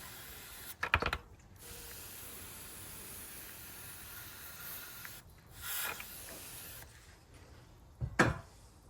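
Brake cleaner sprayed onto Mercedes S-Class W221 S350d front brake parts in short hissing bursts, three separate sprays about four seconds apart, close and moderately loud with quiet pauses between.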